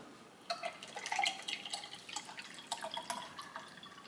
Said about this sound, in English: I'm gonna pour in the coconut water now.